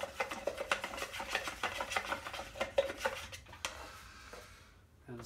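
Gloss enamel paint being stirred in a nearly empty can, a run of quick scraping taps and rubbing strokes of a stirrer against metal, close and fairly quiet, fading near the end.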